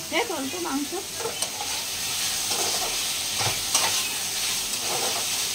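Meat cooking in a pan gives a loud, continuous sizzle with stirring scrapes up close. A voice briefly speaks over it at the start.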